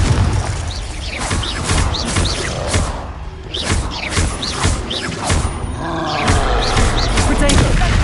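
Confringo fire spell blasts in the Hogwarts Legacy video game, played on PS5, land as repeated loud booming bursts with roaring crackle amid dense battle effects and clashing spell sounds throughout.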